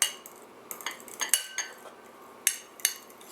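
Egg yolks being stirred in a container with a utensil, producing scattered light clinks and scrapes of metal against the vessel at close range, irregular in rhythm with quiet gaps between strokes.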